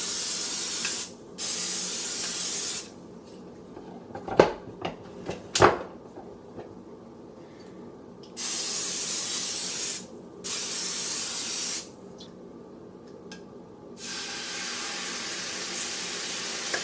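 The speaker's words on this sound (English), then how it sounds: "Uso spray de aceite de oliva." Olive oil cooking spray hisses out in several short bursts, each lasting about a second, between quiet gaps with a couple of sharp knocks midway, then a longer, softer spray at the end.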